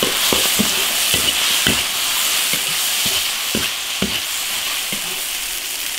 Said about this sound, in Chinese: 首先把牛肉炒香